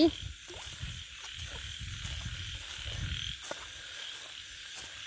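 Many frogs croak in a rhythmic, pulsing chorus during rain at night near rice paddies, the calls steady and fairly close over a constant hiss of rainfall and insects.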